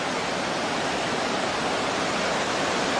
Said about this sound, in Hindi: बाढ़ का यह पानी अपने साथ बड़ी बड़ी चट्टानों को बहाकर ले जा रहा था